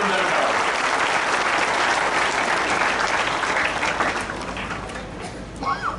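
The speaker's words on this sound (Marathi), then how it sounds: "आपल्या सर्वांना विनंती, टाळ्या वाजवून एकदा धैर्यशील मानेचं आपण अभिनंदन करावं।" An audience at a political speech in Ichalkaranji claps loudly and steadily, as a dense wash of applause that fades toward the end, with voices heard faintly as it dies down.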